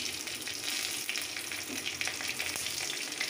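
Slit green chillies frying in hot tempering oil for a moong dal vegetable dish, a dense, continuous close crackling sizzle with light stirring movement underneath and no talk.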